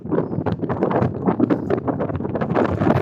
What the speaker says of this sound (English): I think it's the easterly winds that are very chilly here, so maybe this is an easterly wind.